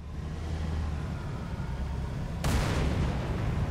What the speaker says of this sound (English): I saw that explosion from orbit.